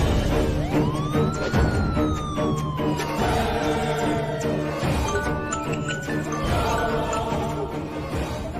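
A wailing ambulance siren rises and falls loudly over traffic noise, followed by a shorter two-tone whoop, with no talking.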